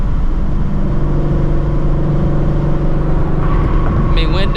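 A Shelby GT350 cruises in 5th gear through a city at night, its engine droning steadily at moderate load with a constant low rumble and road noise throughout.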